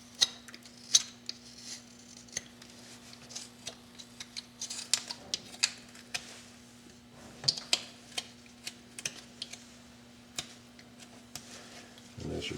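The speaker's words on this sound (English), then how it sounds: "I'm going to go ahead and carve that back around again" A carving knife shaves a wooden horse figure in a quiet room, giving short, crisp scraping cuts that come in irregular bursts and pauses against a faint steady hum.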